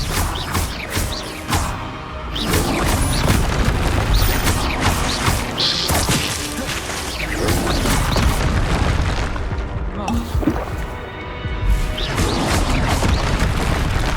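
Expelliarmus spell casts in Hogwarts Legacy amid dense, continuous magical combat, with heavy booming impacts and crashing bursts that thin out briefly near the middle and again toward the end.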